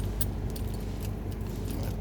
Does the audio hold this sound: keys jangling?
yes